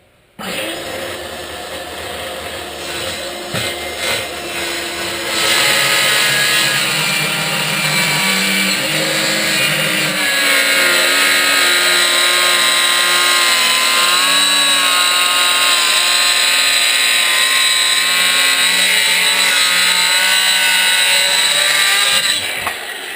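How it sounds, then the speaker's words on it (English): A power saw set just deep enough cuts through a plywood panel for a teardrop trailer build, starting up and then running a long, loud, steady whining cut up close before winding down at the end. "I set the saw up so it just barely goes through the bottom of the plywood"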